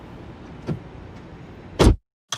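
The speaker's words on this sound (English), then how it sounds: "it's amazing how you can silence this immensely loud city by just closing the door" A 2020 Mercedes-Benz EQC electric SUV door swings shut on a loud city street: steady traffic murmur and a faint knock, then one solid, heavy thump, followed by abrupt near-silence and a brief muffled sound.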